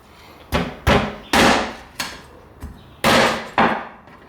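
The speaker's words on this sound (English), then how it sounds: "if I hit it just right over here, the rib just snaps like that" A cleaver chops through pork ribs on a board in a series of seven sharp, loud strikes, each a crisp crack with a short decay, spaced unevenly about half a second apart.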